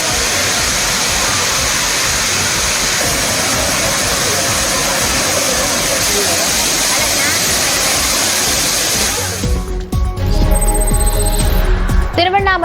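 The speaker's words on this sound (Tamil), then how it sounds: "மழை காரணமாக திருப்பரப்பு அருவியில் தண்ணீர் ஆர்ப்பரித்து கொட்டுகிறது" A waterfall at Thirparappu falls gushing hard after heavy rain, a loud steady roar of water throughout, briefly changing character near the end.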